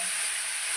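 Chicken pieces with turmeric sizzle and fry in a pan in a short, steady, close burst of crackling hiss with faint stirring, and no voices.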